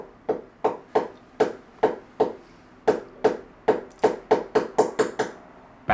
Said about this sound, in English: my neighbor is fucking knocking on the wall